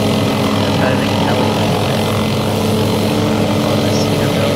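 Helicopter engine in Garry's Mod, a steady loud droning whine and rotor hum holding continuously throughout without pause.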